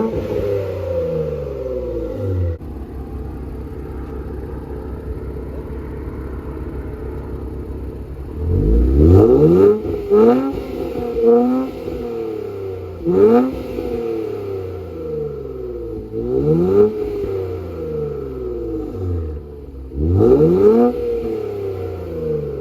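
An Infiniti Q60/Q50 fitted with an Ark exhaust and downpipes idles with a low, steady burble, then snaps into a series of sharp revs, each rising and falling, loud and close with no voices.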